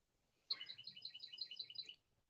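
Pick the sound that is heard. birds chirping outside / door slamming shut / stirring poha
birds chirping outside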